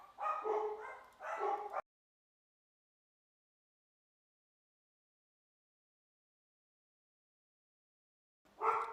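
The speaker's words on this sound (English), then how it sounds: "The dog's going to be barking" A dog barks in a quick burst of several loud, close woofs, then silence, then another bark starts at the very end.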